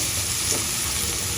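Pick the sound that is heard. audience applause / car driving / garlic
garlic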